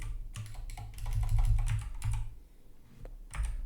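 Rapid typing on a computer keyboard sitting just behind a microphone, with close, clattery keystrokes in dense bursts and a brief pause before the tapping resumes.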